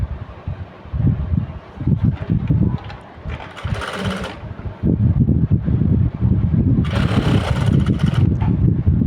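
A sewing machine stitches the hook strip of a blouse, a close, steady mechanical whirr running in two bursts with a brief pause between, and no talking.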